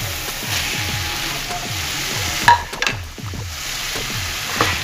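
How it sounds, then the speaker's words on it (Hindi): Drumstick pods dropping into a pan of tomato masala frying in separated oil, a steady close sizzle with rhythmic scraping stirs and a few sharper clatters midway, no voices. "टमाटर भून चुका है, ऑयल अलग हो गया है। अब इस वक्त मैं सहजन की फली डालूंगी।"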